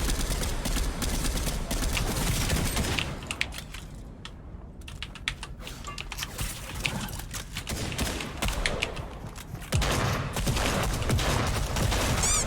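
Gunfire in the video game Fortnite, rapid clattering shots that run almost continuously and loudly through the stretch, easing off briefly midway before resuming in dense bursts.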